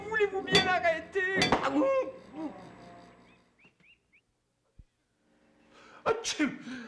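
A man sneezes loudly twice in quick succession in a 1971 French comedy film, followed by a quiet pause, a faint click, then another voice.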